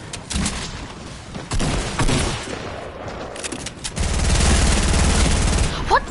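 Loud bursts of sprayed enemy gunfire in a multiplayer shooter game come in dense clusters. One sustained rattling volley runs through the final two seconds, and brief speech is mixed in.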